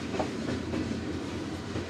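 A train rolls past near an old railway depot, a steady rumbling clatter of wheels on track with faint rhythmic clicks, heard close and continuous with no talk.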